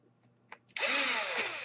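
A powered screwdriver set to low torque drives a screw into a Samsung laptop during a repair, a couple of faint taps and then a close, steady whirring burst of the motor lasting about a second.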